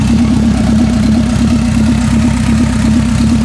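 Car engine idling with the exhaust running, a loud close steady burble with an even rhythmic pulse and a strong low hum, continuous and unchanging with no voices.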